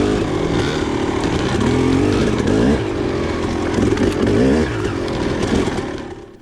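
Two-stroke dirt bike engine revving hard and close on a stock carburetor with jetting, a loud continuous buzzing rise and fall through the gears that tapers slightly at the end.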